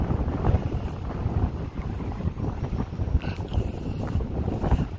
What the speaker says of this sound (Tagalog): Masyado git ka kusog sing hangin.